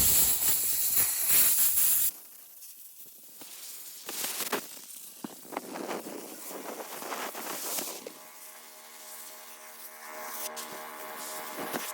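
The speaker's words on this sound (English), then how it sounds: "Little squirt of the compressed air." Compressed air blasting from an air compressor nozzle onto a live edge epoxy plant stand, a loud hiss for about two seconds followed by quieter intermittent puffs and workshop noise.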